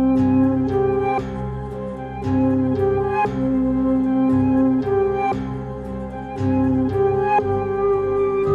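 Layered melody bus of three synth sounds slowed by a halftime effect at 90% mix, a loud, steady music loop with sustained tones and regular plucked accents, no voices.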